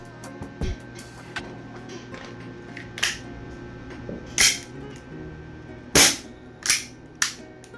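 Sharp gas-powered shots from an E&C Glock 17 Gen5 airsoft pistol with a faulty sear, several distinct cracks spaced irregularly over a few seconds, close and loud with no talking.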